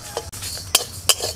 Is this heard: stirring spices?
yes